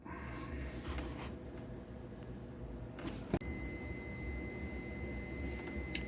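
A handheld multimeter gives a continuity beep on a Kubota B3000 tractor's wiring: after some faint handling noise, one sharp click starts a loud steady tone that runs to the end.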